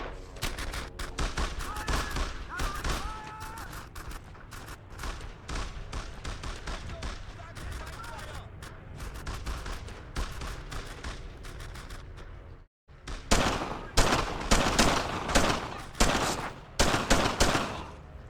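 Rifle fire in Brothers in Arms: Earned in Blood, a World War II game on the original Xbox: rapid, close bursts and single shots over battle noise, then a brief silence before heavier volleys. Voices speak in between.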